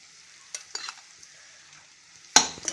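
Cooked rice tipped into a hot pan and stirred for spicy schezwan fried rice: a faint steady sizzle with scattered soft scrapes and taps, then a louder clatter of stirring near the end, no talking.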